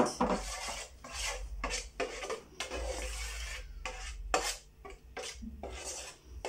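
A spoon steadily scrapes and rubs around a bowl, mixing gelatin into chocolate for a chocolate mousse, close and fairly quiet, with no talking.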